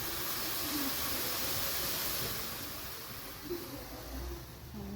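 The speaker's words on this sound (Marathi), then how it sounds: "बघू शकता चहा आपला उकळून राहिलेला" Steady soft hiss of a pan of tea boiling on a stove, faint and continuous with low bubbling underneath.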